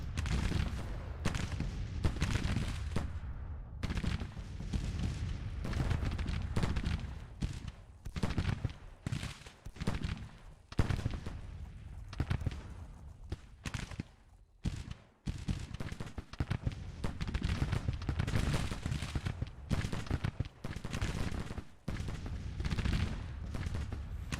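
Artillery battery in the Civil War strategy game Grand Tactician firing steadily, dense overlapping cannon booms and crackling volleys filling the whole stretch, loud and continuous.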